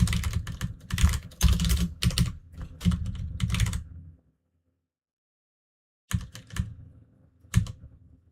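A computer keyboard being typed on in quick, close bursts of key clacks. The typing stops for about two seconds of silence, then resumes briefly.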